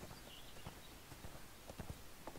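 Horse hooves clip-clop in the video game ArcheAge, an uneven run of soft, close footfalls with a muffled thud on each step over a steady background hiss.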